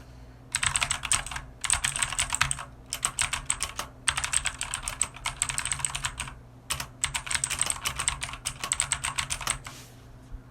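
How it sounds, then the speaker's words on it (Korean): Fast typing on a Philips G614 keyboard, bursts of crisp, clear keystrokes with a lingering ringing quality, broken by brief pauses and heard close and alone over a low background hum. "필립스 G164 같은 경우에는 정말 청명한 소리, 끝에 계속 울리는 소리가 계속 있거든요"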